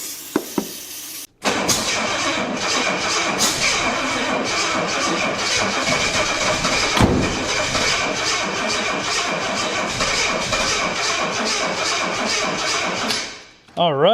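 An old Jaguar engine, a barn find sitting unused for about 20 years, cranks and fires up loudly and keeps running roughly for over ten seconds after a brief pause, with people talking nearby.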